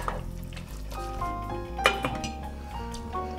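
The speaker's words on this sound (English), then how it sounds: "Now we'll stir this up and let it simmer on low heat for about 5 to 7 minutes" A utensil scrapes and clinks against a pan while veggie burger ingredients are stirred over low heat, with a few sharp metallic taps over a low steady hum and no talking.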